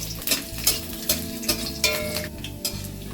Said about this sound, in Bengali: আমি এই কটা রসুন নিয়েছি, নিয়ে আমি হালকা করে রসুনগুলো প্রথমে ভেজে নেব।